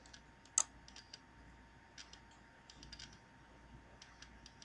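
A single sharp mouse click on a web page button lands near the start, followed by faint, scattered light taps in a quiet room.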